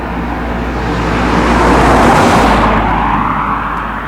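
A car approaches on a road and rushes past close by, its loud broadband roar swelling to a peak mid-way and then fading as it moves off, with steady traffic rumble underneath.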